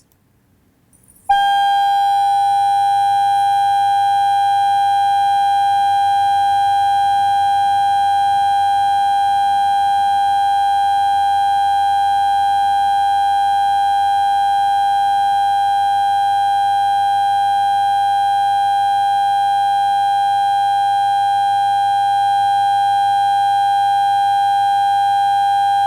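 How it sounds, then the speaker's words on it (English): Steady pure 800 Hz sine tone generated in real time by code, starting abruptly after a brief silence and holding at constant loudness for about twenty-five seconds. "play the 800 hertz sine wave"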